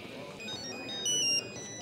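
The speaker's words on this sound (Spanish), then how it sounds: "Teléfono, Meltem." An electronic telephone ringtone plays a high, steady warbling tone under low room noise, with a short louder burst near the end, in a Turkish TV drama scene.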